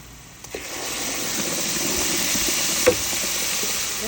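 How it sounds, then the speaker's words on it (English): Onions and curry powder fry in a pot for a tomato stew, a soft hiss that swells into a steady sizzle after the first half second, with a brief clink near the end. "I'm just going to let this fry for just a little bit before I add my blended spices and onions."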